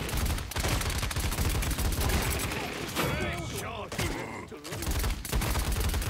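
Dense, continuous gunfire from the shooter game Paladins, a steady rapid volley running nearly the whole stretch with sweeping effects in the middle, loud and close.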